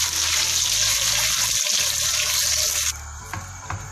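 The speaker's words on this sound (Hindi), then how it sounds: "आग बिल्कुल स्लो कर दें और इसके अंदर पानी डाल दें" Water poured into a pan of hot oil with cardamom hisses loudly in a dense, steady sizzle that settles abruptly into quieter bubbling and a few soft crackles.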